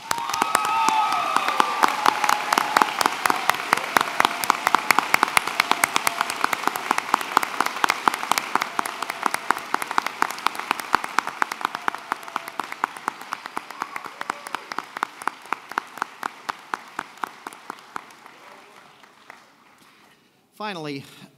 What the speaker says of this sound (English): Let's give all of our graduates a round of applause, shall we?